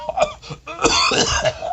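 A single harsh cough with throat clearing, close and fairly loud, breaking into a couple of rough bursts.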